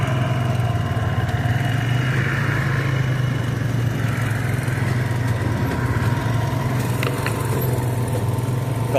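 A rough cut mower running steadily while mowing a field, a loud continuous engine drone with a low throbbing hum that stays even throughout, heard up close with no voices.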